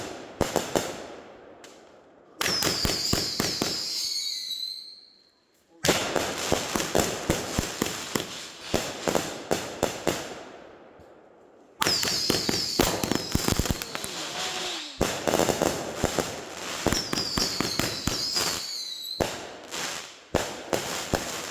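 Hydrogen Bomb consumer fireworks during a July 4th backyard show: loud bursts of rapid crackling and popping come in several long volleys separated by brief pauses, with shrill whistles rising among the blasts.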